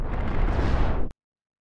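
A cannon blast in the space combat game Cosmoteer booms as one loud, deep explosion and rumbles for about a second before cutting off abruptly into silence.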